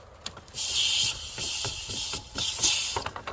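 Pressurized air and coolant hissing loudly out of the reservoir as the cap is cracked on a warmed-up 6.0 Powerstroke diesel, a steady rushing burst lasting a few seconds with small clicks and clunks of the cap underneath.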